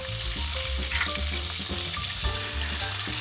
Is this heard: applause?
no